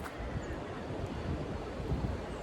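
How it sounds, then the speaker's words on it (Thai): Strong wind gusts outdoors in open country while checking on a garlic field, a steady loud broadband roar buffeting the microphone throughout with no voices. "ลมแรงมากเลยค่ะ"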